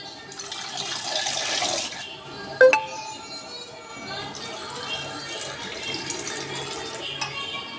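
Water pours into a tumbler for making tea, a steady splashing stream. It pauses briefly around a sharp clink and then runs again, softer and more continuous, as light kitchen noise carries on beneath it.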